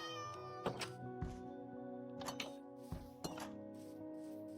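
A house cat meows a few short times over a steady background of game music, with faint clinking sounds mixed in.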